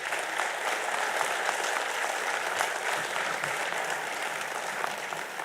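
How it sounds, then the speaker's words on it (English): An audience at the 62nd National Cost and Management Accountants' Convention applauds the leaders on stage, a thick, continuous roar of clapping from a large crowd that holds steady throughout. "can we have a thunderous applause for all the leaders on the stage?"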